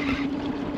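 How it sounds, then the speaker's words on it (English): A fishing boat's outboard motor runs on a lake during spring walleye fishing, a steady low drone with faint wind noise, brief and close. "I gotta keep the motor going or else we'll freaking go to shore."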